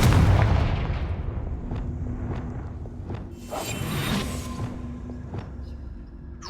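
An explosive Confringo spell in Hogwarts Legacy, a fiery whooshing blast that booms and then fades into a long rumbling tail with faint cracks and distant thuds, loud and close, with no talk.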